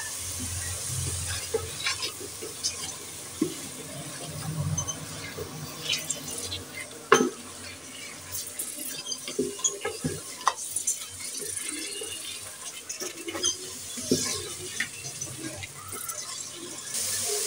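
Eggs go into a pan of cooked-down masala with cinnamon and cardamom for egg korma, bringing a continuous close sizzle and frying hiss broken by scattered clinks and stirring knocks.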